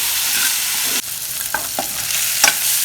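Constant loud sizzling of chicken masala frying in a pan, with a few scraping stirs and clinks over the hiss.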